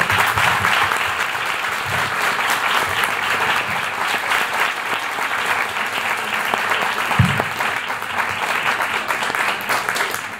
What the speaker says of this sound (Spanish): un aplauso a nuestros panelistas, por favor